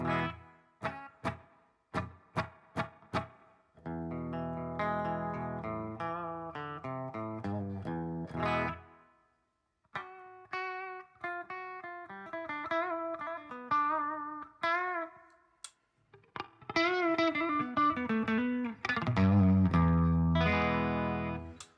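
An electric guitar plays clean picked notes and chords through a reverb pedal, a wet reverb tail ringing after each phrase, bright and sustained, alone without talk.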